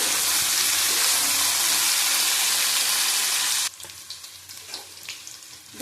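Vegetables with green chillies frying in a pan, a loud dense sizzle that stops abruptly partway through, followed by quieter stirring and scraping sounds.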